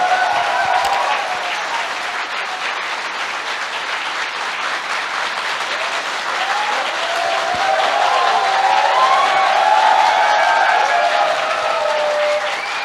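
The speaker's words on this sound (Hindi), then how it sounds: "गुरु जी के लिए एक जोरदार तालियां होनी चाहिए।" An audience at a team training session applauds the guru loudly and continuously for several seconds, a thick wash of clapping that swells slightly toward the end.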